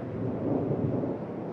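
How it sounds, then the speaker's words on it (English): A low, distant roll of thunder rumbles steadily at a mountain camp near Ala-Kul Lake in Kyrgyzstan, faint and muffled, with no voices. "That was thunder."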